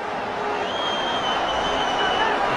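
Stadium crowd at a Pakistan vs Bangladesh Asia Cup cricket match during a tense last over, a steady, dense roar of many voices holding at an even level throughout, with a brief burst at the very end.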